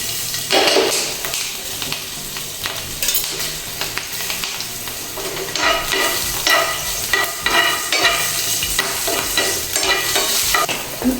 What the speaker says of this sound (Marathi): व्यवस्थित आपल्याला फोडणी तयार करून घ्यायची आहे.